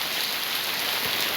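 Heavy rain pours down in Jaffna, a dense, continuous hiss of drops striking surfaces, steady and close with no voices.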